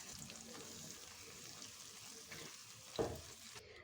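A spatula stirs food frying in a pan as a mash is cooked, soft steady sizzling with faint scraping and a sharper clack near the end, quiet and close.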